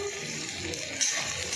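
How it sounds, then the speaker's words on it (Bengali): Ground onion paste hits hot oil in a home kitchen, giving a steady close hiss of frying with a slightly sharper crackle partway through. "পেঁয়াজটা এই তেলের মধ্যে দিয়ে দেবো"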